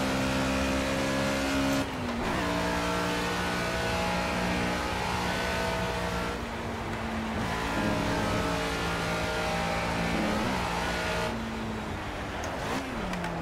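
A race car in Project CARS is driven around a lap of the Nürburgring, a steady, loud engine drone that rises in pitch through the gears, with brief dips at each shift.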